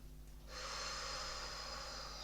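A single long inhalation through the nose during a lateral rib-stretch breathing exercise, a close airy rush that starts abruptly after a brief quiet moment and holds steadily to the end.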